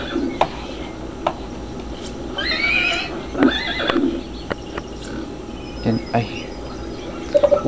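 A Przewalski's horse in the Zoo Tycoon 2 game gives several whinnies and neighs, with clip-clop hoofbeats and faint insect chirps of the zoo ambience behind.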